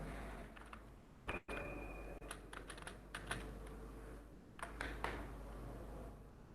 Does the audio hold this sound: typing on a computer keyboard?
yes